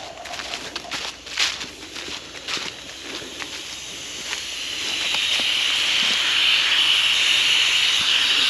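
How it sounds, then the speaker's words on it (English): Hissing air leak at the gasket of a manure pump hose, a steady, close, rising hiss that swells over the second half after some handling clatter and knocks. "Oh, I hear a leak."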